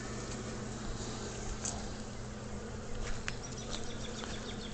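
Honeybees at a top bar hive that is getting swarmy, a steady dense buzzing drone close by with an occasional individual bee passing nearer, no voices.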